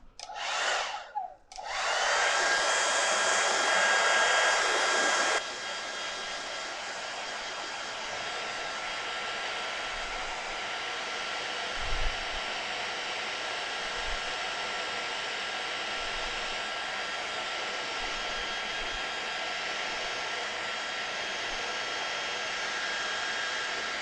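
A hair dryer drying a watercolour painting of a snow scene blows with a loud, steady whoosh. The whoosh drops to a lower, continuous airflow after about five seconds and runs alone to the end.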